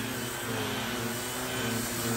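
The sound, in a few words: Bissell Power Trak 6592 vacuum cleaner running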